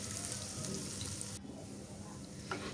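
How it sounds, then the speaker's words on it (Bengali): A tempering of spices for vegetable curry dal fries in a pan, a faint continuous sizzle that drops away abruptly partway through. "এই তো প্রায় ভাজা হয়ে গেছে।"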